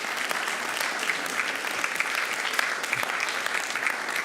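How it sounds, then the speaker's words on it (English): A room at a school board meeting breaks into sustained applause for a high school football coach, a dense, even clapping that continues without a break for the whole stretch. "let's give Coach Samples a round of applause"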